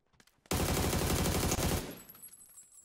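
A sustained burst of rapid automatic gunfire in a PUBG squads match, loud and close after a quieter start, lasting over a second before tapering off into a faint tail.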